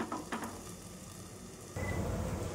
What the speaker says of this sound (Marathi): तेल पण टाकल्यानंतर आहे ना भाजल्या जाईल